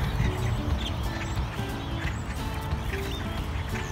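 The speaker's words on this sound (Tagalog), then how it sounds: "Grabe, ang dami, ibon." A large flock of birds roosting in trees at a Walmart keeps up a dense, overlapping chatter of calls and squawks, loud and continuous with no gaps.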